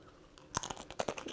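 Someone bites into a lasagna cupcake baked in a muffin pan with crunchy egg roll wrapper layers, giving a few close, crisp crunches and chews in quick succession.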